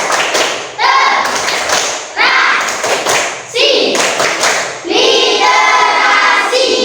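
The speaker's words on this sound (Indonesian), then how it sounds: "Kita tepuk literasi dulu." A class plays a rhythmic clapping game, loud coordinated bursts of claps and thumps in short patterned groups, with children's voices chanting along between and over the beats.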